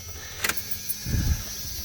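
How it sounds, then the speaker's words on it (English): Power side mirror motor on a mid-1990s Dodge Ram truck whirs briefly, a faint low hum near the end after a small click, in a quiet setting. "make sure the power mirror functions still work"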